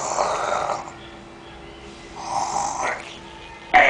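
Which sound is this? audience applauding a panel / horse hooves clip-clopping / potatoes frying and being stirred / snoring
snoring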